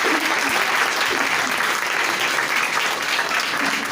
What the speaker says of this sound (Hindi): दोनों हाथों से ताली लगाएं